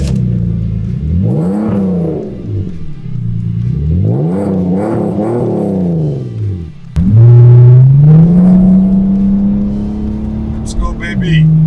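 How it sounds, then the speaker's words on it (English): A classic motorcycle engine cold-starts and revs up and down in repeated swells, then settles into a loud steady higher idle, close by. "Now for a quick cold start."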